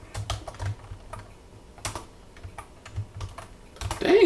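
Keystrokes on a computer keyboard clatter in irregular bursts of quick taps with short pauses, fairly close and clear, with no talking.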